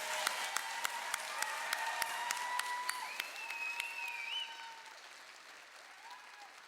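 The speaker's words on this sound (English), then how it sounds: "So let's give these graduates another round of applause." An audience at an adult education graduation ceremony applauds the graduates, with sharp, distinct claps ringing out at a steady pace, then fading away as a faint tone lingers in the room.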